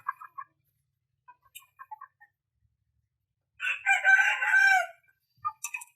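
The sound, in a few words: Aseel chickens, rooster crowing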